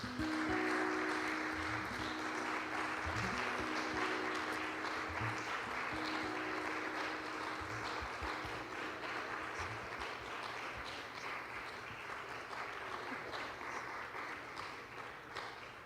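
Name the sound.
church congregation applause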